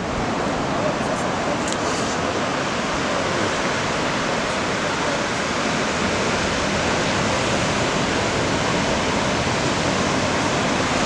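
Constant broadband roar of fast, closing-out surf waves crashing and washing in shallow water without pause at Anglet beaches, dense and steady throughout.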